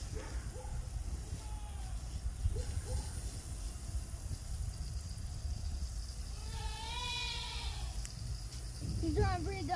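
A goat on a small farm lets out one drawn-out, wavering bleat against steady outdoor hiss, with people speaking softly nearby.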